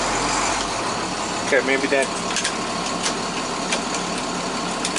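A vehicle engine runs at a steady idle while it is shifted into gear, a constant close rumble with brief clunks, as someone speaks a few words over it.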